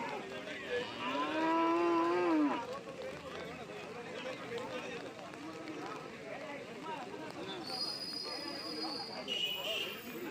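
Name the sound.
water buffaloes at a cattle market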